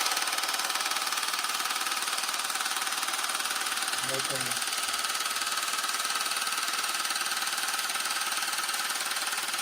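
GainsWave acoustic wave therapy device running loudly and continuously, a dense, steady mechanical buzz close by with no letup, while a voice speaks briefly underneath.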